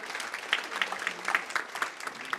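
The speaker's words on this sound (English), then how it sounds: "Kindly let's appreciate him with a hearty clap as he steps to the podium" An audience at a university launch event claps as a guest steps to the podium, a steady, moderately quiet patter of hands with individual claps standing out near the microphone.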